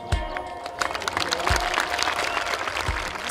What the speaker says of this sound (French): Un dernier putt rentré sous les applaudissements du public de Saint-Omer et Julien Guerrier